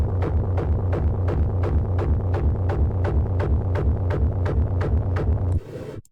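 Hard techno kick drum distorted through combined iZotope Trash 2 presets, pounding in a steady fast four-on-the-floor pattern with a heavy booming low end, loud and alone, then a brief noisy burst as it stops.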